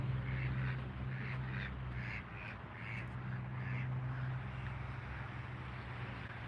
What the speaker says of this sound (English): There's some more ducks.